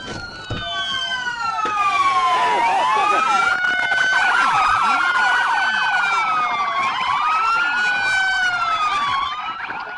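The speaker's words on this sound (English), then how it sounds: "with sirens echoing behind him" Police sirens wail loudly and continuously during a trooper's high-speed chase of a speeding sedan, several overlapping rising and falling tones close by, with a voice faintly beneath.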